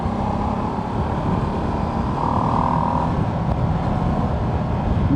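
A Ducati Streetfighter V2 naked motorcycle with a V-twin engine rides along, its steady loud engine drone mixed with heavy wind rush throughout.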